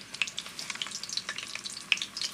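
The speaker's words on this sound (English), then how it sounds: "So I'm going to fry the onion for at least 3 minutes in there." Sliced onions fry in hot oil with a bright, crackling sizzle full of small pops, loud and close and continuous, with no voices.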